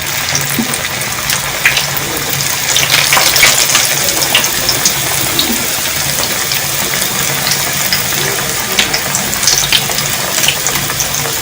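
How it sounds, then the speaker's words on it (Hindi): Potato samosa rolls deep-fry in hot oil over a medium flame, giving a loud, dense and steady hiss with a bubbling fizz that runs without pause for about eleven seconds. The sound is close and there is no talking. "मैं रोल फ्राई कर रही हूँ।"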